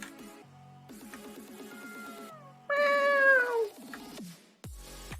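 A house cat meows several times, one long loud rising-and-falling cry standing out among shorter mews, with a sharp squeak near the end; no talking.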